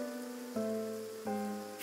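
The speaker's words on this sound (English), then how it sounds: "It's raining." Rain falls steadily in a video game, a soft, even hiss that sits beneath sustained musical chords, which shift twice before a brief swell of noise at the end.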